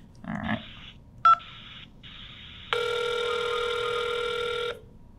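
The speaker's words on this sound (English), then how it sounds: "the phone in the back was ringing" A UniFi Talk desk phone rings in a steady electronic tone lasting about two seconds, preceded by short dial-tone-like beeps and a brief high blip, with no talking heard.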